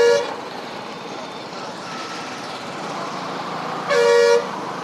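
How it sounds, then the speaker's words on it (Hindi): Two short, loud vehicle horn honks in city traffic in Lucknow, one at the start and another near the end, over a steady rumble of passing road vehicles, with no talking. "अरे क्यों हॉर्न मार रहे हो यार?"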